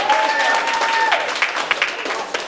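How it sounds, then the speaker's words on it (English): Audience at the LA Comedy Awards breaking into loud, close applause, a dense wash of clapping that stays strong for a couple of seconds, with a voice heard faintly at the start. "Give yourselves a round of applause"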